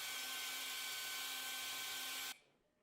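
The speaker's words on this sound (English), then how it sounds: "JK, that was a Roomba." A Roomba robot vacuum runs with a loud, steady whirring motor whine and a bright hum, then cuts off abruptly after about two seconds, leaving near silence.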